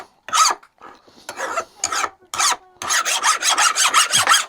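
Hand file rasping across a vintage Colombian No. 143 bench vise, a series of close, loud strokes, sparse at first, then a steady rapid run of back-and-forth passes.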